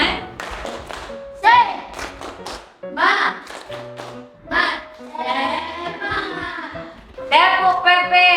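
Children perform the rhythmic 'tepuk semangat' clapping routine in a madrasah classroom, sharp patterned hand claps interleaved with young voices chanting and speaking.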